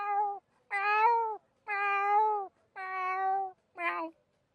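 A man imitates a cat at a livestock market, giving four drawn-out, clear meows with short pauses between them. The last meow is shorter. No other voices are heard.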